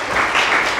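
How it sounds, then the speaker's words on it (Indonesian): Congregation clapping during a Sunday church service, a loud, close, continuous burst of many hands filling the room. "Tepuk tangan itu."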